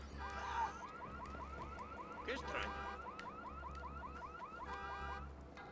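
A car alarm goes off in the video game Watch Dogs, a distant warbling electronic whoop that cycles in rapid repeating sweeps, faint and continuous, with no talk over it.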